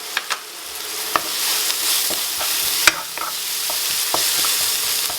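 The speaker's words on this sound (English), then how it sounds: "Once those leeks frying up for a minute" Leeks sizzling in sunflower oil in a pan, a steady frying hiss with scattered crackles and a few sharp stirring clicks, close and continuous without talk.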